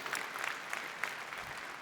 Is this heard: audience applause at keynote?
yes